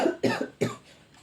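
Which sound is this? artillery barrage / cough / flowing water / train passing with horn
cough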